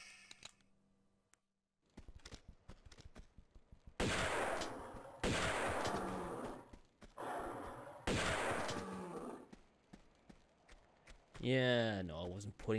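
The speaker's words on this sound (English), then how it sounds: "I'm getting out the shotgun" Several heavy shotgun blasts fire in Tomb Raider 2 Remastered at the Great Wall against tigers, each a loud separate boom with decaying echo, followed by a brief warbling game sound.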